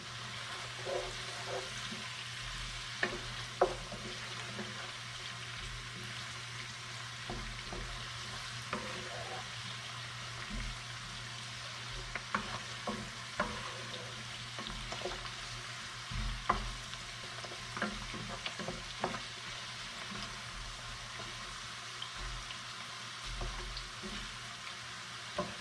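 A cassoulet cooks in a pot with thyme and laurel, holding a steady low sizzle broken by scattered scrapes and clicks of stirring, with no talking.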